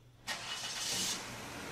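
A car engine cranks and catches after a quiet moment, then holds a steady broadband roar close by for the rest of the moment, with no talk over it.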